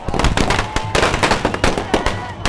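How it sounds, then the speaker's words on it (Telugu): Fans set off a large barrage of firecrackers and fireworks while celebrating a Telugu film trailer release, producing loud, dense crackling with rapid overlapping bangs that continue throughout. "ఇక్కడ ఫ్యాన్స్ మనం చూడొచ్చు, పెద్ద ఎత్తున బాణసంచా పేలుస్తున్నారు"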